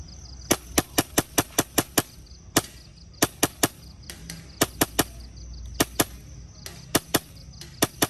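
A custom HPA airsoft gun fires at a can target about 35 meters away, giving sharp, crisp cracks in quick bursts and single shots, roughly twenty in all, over a quiet outdoor background.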